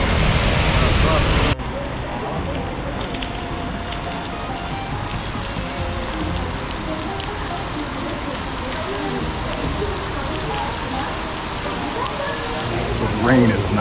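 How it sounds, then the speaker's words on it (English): Steady heavy rain falls on a surface on a trip in Greece, a dense continuous hiss that runs the whole time, loud and close, with a brief burst of louder noise at the start. "So the rain is not cooperating."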